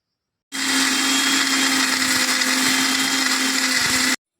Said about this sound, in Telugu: ముందు అంతవరకు మిక్సీ పట్టుకోవాలి వేయించిన ఎండుమిరపకాయలు